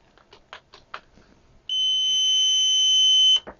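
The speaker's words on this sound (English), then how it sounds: "Loud beep works." A few quiet taps, then a loud, steady electronic beep from a Chauvin Arnoux MAX 3000 multimeter's continuity test holds for nearly two seconds and cuts off abruptly.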